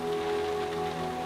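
Heavy rain pouring down in a steady, dense hiss that stays constant and fairly loud throughout, with no voices.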